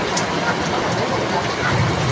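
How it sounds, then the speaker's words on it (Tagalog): Heavy rain pours steadily on a rural town in Lopez, Quezon, a dense, loud, unbroken wash of noise with no voices heard. "Lumakas na naman ang ulan, guys."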